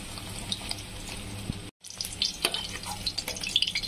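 Paneer pieces drop into warm water in a home kitchen, giving soft splashes and trickling water, close and fairly quiet, with a short silent break partway through.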